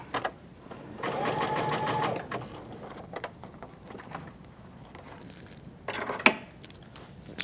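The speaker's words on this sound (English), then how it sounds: "I'm going to go ahead and do my zigzag first" A sewing machine runs a zigzag stitch in one steady, close whirring burst of about a second, then falls quiet apart from soft handling clicks and a sharp tap near the end.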